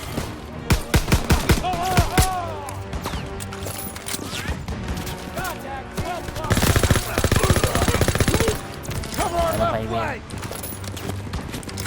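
Rapid bursts of automatic gunfire from the World War II shooter Call of Duty: WW2, loud and repeated in rattling volleys and single shots over game music and effects, with someone talking excitedly throughout.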